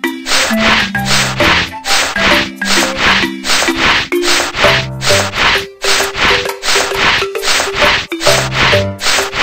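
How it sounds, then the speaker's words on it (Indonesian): Rapid rhythmic scraping of sandpaper on a rusty steel frame, strokes repeating steadily back and forth, loud and close with a tonal whine under the rasping. "Rangka baja sedikit berkarat, bersihkan dengan amplas."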